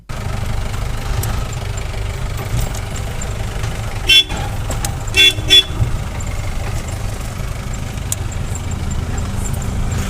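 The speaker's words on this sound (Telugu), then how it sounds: "చూడండి ఫ్రెండ్స్ ఇప్పుడైతే స్టార్ట్ అవుతున్నాయి బండ్లు" Vehicles start up and idle on a roadside near the Srisailam temple route, engines rumbling steadily throughout while a few short horn toots sound in the middle, moderately close.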